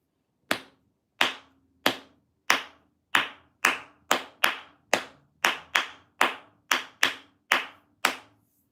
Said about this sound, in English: let's go ahead and clap that now, or establish the rhythm